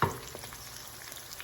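Ingredients for dhal curry sautéing in a pan, a soft continuous frying sizzle that opens with a brief louder stir and then settles to an even hiss, close by with no voices.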